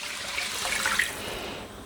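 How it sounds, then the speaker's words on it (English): Three cups of water poured into a cooking pan with taco seasoning for taco rice, a close, steady splashing stream lasting the whole moment. "Add in 3 cups water."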